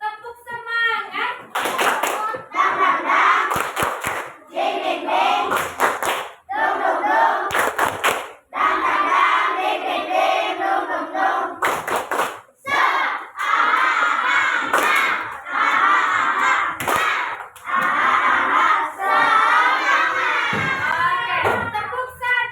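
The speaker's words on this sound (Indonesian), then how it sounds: "Tepuk semangat." A classroom group claps out a rhythmic spirit routine, with sharp patterned handclaps mixed with loud children's shouting and chanting voices, alone and energetic, broken by brief pauses.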